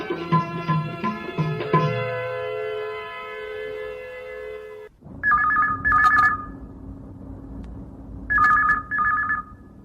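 A telephone ringing on a call-in Chhattisgarhi song show: after a burst of music ends, loud electronic ring pulses come in pairs, near and clear over a low hum.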